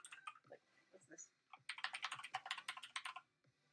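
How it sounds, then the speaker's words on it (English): Computer keyboard keys clack in quick bursts of typing, close and crisp, with a pause and then a dense run of keystrokes. "I love the keyboard clacking sound."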